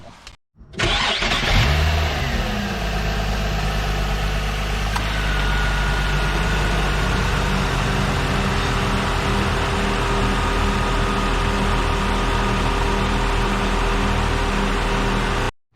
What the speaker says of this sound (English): we started the engine, and as we saw, no squeaking, everything working well